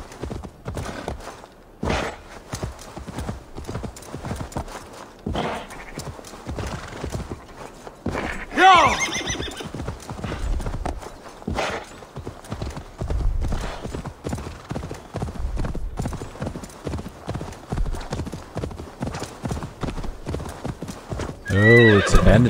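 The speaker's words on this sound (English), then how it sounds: "The horse will make it far quicker." Horse hooves clip-clop at a gallop and the animal whinnies in Assassin's Creed Valhalla, a steady loud run of hoofbeats with neighs breaking through, alongside game sounds and some speech.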